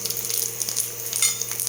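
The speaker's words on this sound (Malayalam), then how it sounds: "അണ്ടിപ്പരിപ്പ് മുന്തിരിയും തേങ്ങാക്കൊത്തും വറുത്തെടുക്കാം നെയ്യ് ഒഴിച്ചിട്ട്" Cashews, raisins and coconut pieces crackle in ghee, a brief close sizzle with light stirring taps and a faint steady hum underneath.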